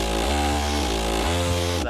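A buzzy, harmonically rich synth bass plays sustained notes with a sweeping, swirling phaser effect and a pitch shift partway through.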